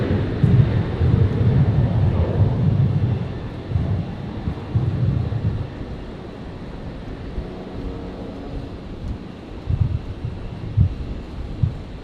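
A 737-sized airliner rolling for takeoff on runway 19 right at Brisbane airport, a distant low engine roar rising and falling amid gusty wind buffeting the microphone, with no speech.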